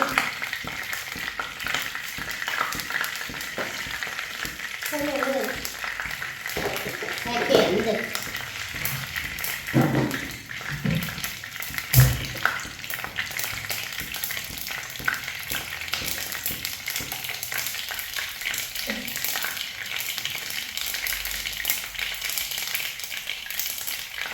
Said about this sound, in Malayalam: ഞാൻ കടുകിടാൻ പോവാണ് ബീഫ് കറിക്കകത്ത്